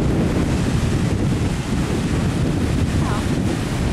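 Surf rolling onto the sand at Panama City Beach, Florida, heard as a steady, loud wash of breaking waves mixed with heavy wind buffeting the microphone, with no talking.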